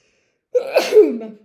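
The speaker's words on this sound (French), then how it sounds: "je me retiens jamais d'éternuer" A single close, sharp sneeze with a quick intake before it and a trailing voiced release, alone in an otherwise quiet space.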